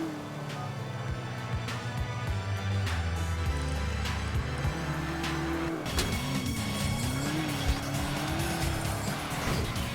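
Game car in GTA 4 driving hard with its engine revving and tires squealing through turns, a continuous loud roar with pitch swings, a sharper screech near the middle, no talking.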